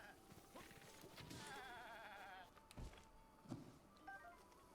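A goat in Zelda: Breath of the Wild gives a wavering, quavering bleat in the game's outdoor soundscape, mid-level and brief, followed by a few scattered thuds and game effects.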